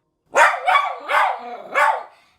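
Four quick barks from a dog with separation anxiety, close and clear, in a short run with a brief pause before the last.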